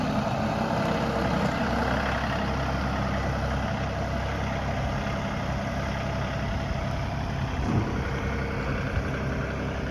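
A delivery truck idles steadily for a tractor delivery, a constant low diesel rumble at moderate distance with no change in pace and no voices.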